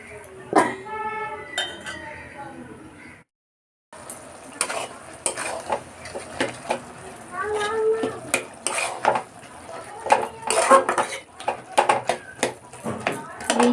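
Food being stirred and sautéed in a pan, with repeated scraping and clinking of a utensil against the pan over a soft sizzle; a short silent gap early on, and a voice is briefly heard.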